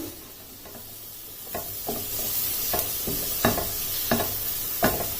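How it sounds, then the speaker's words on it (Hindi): Garlic and ginger paste frying with onions in a pan for a potato and spinach curry, a steady sizzle with intermittent scraping stirs, no voices. "अब लहसुन और अदरक के पेस्ट को भी इसमें सिर्फ 2 मिनट तक ही फ्राई होने देना है।"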